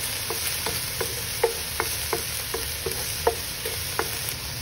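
Garlic sautéing with cooked pork in a pan, a continuous sizzle broken by regular scraping stirs of a utensil, close and with no talking.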